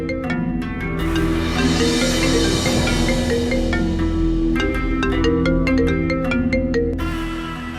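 A phone ringing unanswered, a loud repeating tonal ringtone melody that sustains for several seconds with no pickup.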